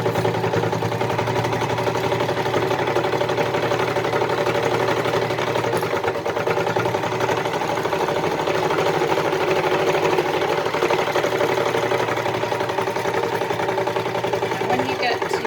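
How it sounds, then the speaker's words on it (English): A sewing machine runs steadily for the whole stretch, zigzag-stitching the seam of a fleece hat with a continuous, even mechanical whir that holds at a constant level from start to finish. "we're going to go zigzag, a few back stitches to secure it, and then just sew along that length"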